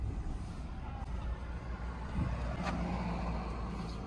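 A truck with a welded chassis and a faulty steering box rolls off in first gear, its engine a steady low rumble that swells slightly partway through, with faint ambient noise and no speech.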